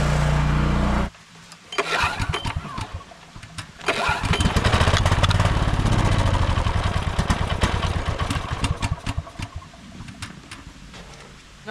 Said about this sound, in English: Carburetor isn't right. It wants half choke to run.